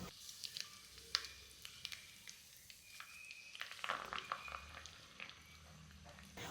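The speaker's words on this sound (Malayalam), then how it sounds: "ഇതിലേക്ക് 1 തണ്ട് കറിവേപ്പില കൂടി ചേർത്ത് വറുത്തെടുക്കാം." Kokkuvada, a Kerala evening snack, frying in oil over a medium flame with a sprig of curry leaves added, giving a soft sizzle with scattered pops and crackles and light stirring sounds.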